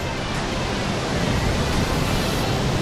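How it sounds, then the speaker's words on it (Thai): Continuous heavy rushing roar of the Chet Khot Pong Kon Sao waterfall in a Thai forest, loud and close, with no voices. "นี่ครับน้ำตกเจ็ดมดใหญ่"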